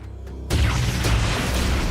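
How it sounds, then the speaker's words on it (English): A bomb goes off in the video game Hyrule Warriors: Age of Imprisonment, a sudden loud, deep boom midway that leaves a rumbling, noisy wash, preceded by quieter game ambience. "I think I use a bomb here."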